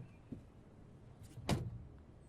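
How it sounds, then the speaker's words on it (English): A car door opens in a quiet setting as a sound effect: a faint small click, then a sharper latch clunk with a brief rattle, isolated and short. "This one is the car door opening."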